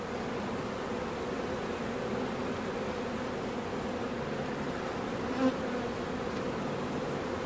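Honeybees buzzing around an open beehive during a swarm-prevention inspection: a steady, dense drone of many wings that holds evenly throughout, close and moderately loud, with no talking.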